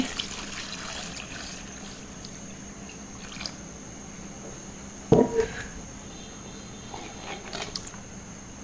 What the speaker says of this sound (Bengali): এই যে আমার এখানে 1 বল বরফ ঠান্ডা পানি দিয়ে দিব আমি এখানে।